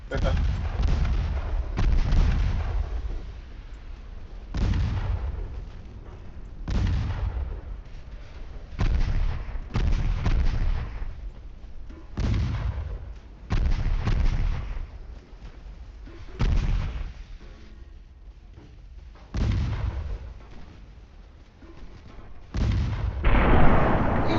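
Naval gunfire in the Ultimate Admiral Dreadnoughts warship video game, repeated heavy booming salvos every couple of seconds with rumbling decay, loud and close, alongside occasional talk.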